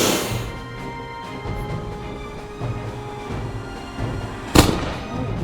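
A Joseon singijeon rocket warhead explodes during a firing test: a single sharp, loud bang cracks out near the end over a steady outdoor noise bed.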